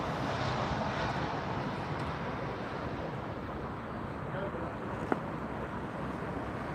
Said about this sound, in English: That's British Airways landing there